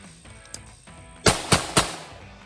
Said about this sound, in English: We're going to finish this magazine into the windshield and move on to the next one.